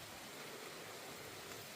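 Steady rain falls over a garden, a dense, even hiss with no break, fairly quiet and unaccompanied by voices.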